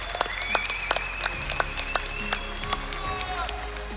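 A conference audience at a startup pitch competition claps in a burst of applause with scattered sharp hand claps, while a presenter talks over it.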